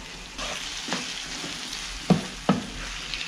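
Onions and other food cooking in a pan, a soft continuous sizzle and bubbling simmer with a few sharp stirring clinks of a utensil against the pan, close and quiet.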